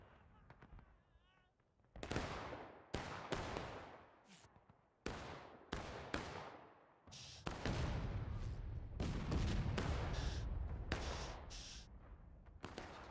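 War of Rights cannon fire booms in a string of sharp, heavy blasts at irregular intervals, some near and loud, others further off, building into a denser rolling barrage with voices faintly beneath.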